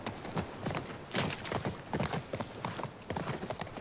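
Horse hooves clip-clopping in the video game The Last of Us Part II, a steady rapid rhythm of hoofbeats close by with gritty impacts, alone without talk.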